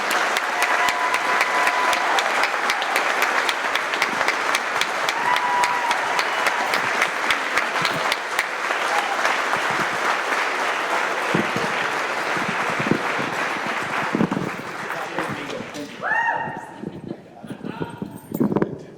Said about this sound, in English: let me get a good round of applause for Mr. Mario Carrasco